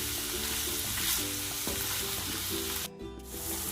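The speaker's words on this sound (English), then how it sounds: "Then I'm gonna add my ground beef." Ground beef of 73% lean and 27% fat sizzles steadily in a pan with no butter, a dense continuous frying hiss with a brief dip partway through and no talking.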